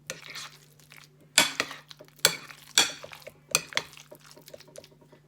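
Potato salad being stirred in a bowl after a sprinkle of onion powder and garlic powder, heard as a series of sharp utensil scrapes and clinks against the bowl in an irregular rhythm, close and fairly loud, with no talking.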